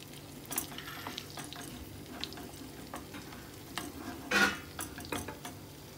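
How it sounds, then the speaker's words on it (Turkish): Eggs with sucuk frying in a pan, a steady soft sizzle with a few brief stirring clatters, close by and alone without voices. "Tabii yumurta çabuk pişiyor."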